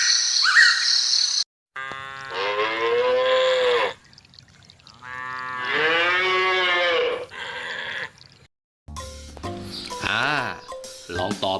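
A cow moos several times in long, drawn-out calls separated by short pauses, loud and close, with a bird chirping at the start and end.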